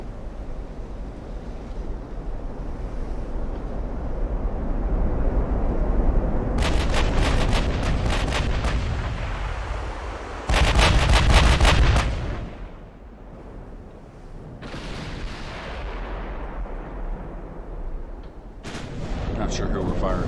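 The USS Iowa's big guns fire in Ultimate Admiral: Dreadnoughts, loud booming salvos with crackling bursts in clusters, heavy low rumble between volleys and a final shot at the end.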